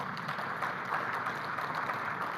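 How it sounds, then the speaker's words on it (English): Applause from a forum audience greeting a speaker on stage, a brief, fairly faint wash of clapping that stays even. "Round of applause for her, please."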